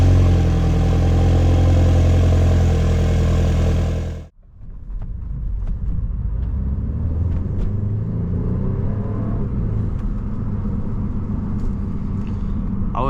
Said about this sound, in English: The cold start on this car also sounds crazy.